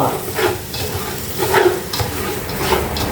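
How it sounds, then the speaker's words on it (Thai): Garlic frying and being stirred and roasted in a hot pan, a steady sizzle broken by repeated scraping stirs. "เจียวกระเทียม แล้วก็คั่ว"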